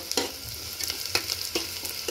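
Onions frying in oil on a full gas flame for a khichdi tempering make a close, bright sizzle broken by sharp spitting pops, with no voices.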